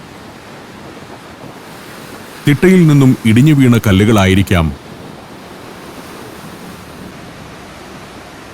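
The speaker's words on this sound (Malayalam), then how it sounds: "നിരന്തരമായി തിരയടിച്ചുകൊണ്ടിരിക്കുന്നു." Ocean waves break continuously on a pebble beach on the Pacific coast, a steady broad wash with wind noise, while someone talks briefly in the middle.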